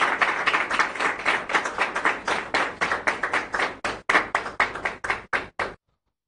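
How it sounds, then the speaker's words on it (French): A television studio audience claps for the prophet Amos, a dense burst of close applause that thins into separate sharp claps before stopping abruptly. "Nous allons applaudir le prophète Amos."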